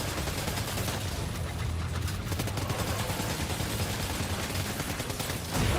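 Rapid bursts of gunfire from Death Stranding 2 on PS5, dense overlapping shots rattling continuously for several seconds with no talk over them.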